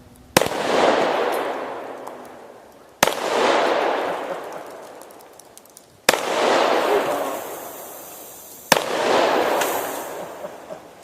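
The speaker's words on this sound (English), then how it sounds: "that is another dimension to shooting these soft drinks" Four loud, sharp gunshots from a pistol and shotgun fired at soft drink cans outdoors, each a sudden crack followed by a long rolling echo, spaced roughly three seconds apart with no talk.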